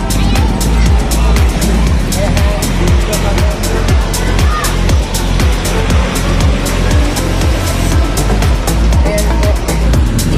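Road traffic on a busy street in Dasmariñas, a steady loud rumble of engines with cars passing close by, under a continuous noisy background.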